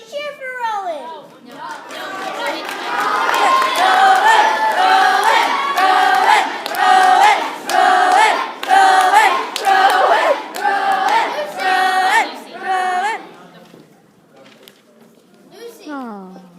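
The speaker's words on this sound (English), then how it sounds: "Come on, everybody, cheer for Rowan" A crowd of fifth-grade children cheers loudly and continuously at a school poetry slam, high excited voices shouting together for several seconds before fading.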